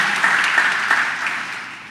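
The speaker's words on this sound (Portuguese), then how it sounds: "dá um aplauso a Jesus aí" A church congregation applauds during a worship service: a short burst of steady clapping that holds evenly, then slowly thins and fades.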